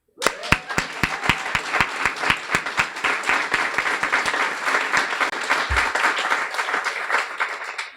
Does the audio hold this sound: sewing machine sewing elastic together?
no